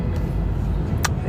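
Trucks pass on the road nearby, a steady low rumble of traffic that holds throughout the short stretch, with a brief brighter hiss of a passing vehicle near the end.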